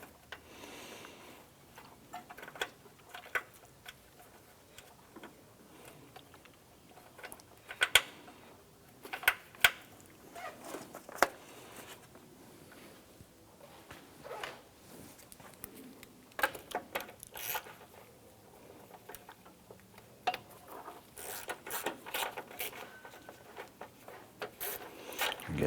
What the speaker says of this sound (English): Let's install our bolts for the ABS module brackets.